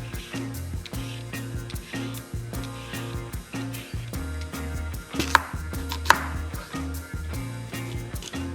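Rapid, steady knife chops through onion and carrot on a cutting board, a regular rhythm of close, crisp taps with a couple of sharper knocks, no talking.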